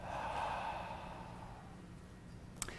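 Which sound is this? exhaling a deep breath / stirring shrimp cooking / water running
exhaling a deep breath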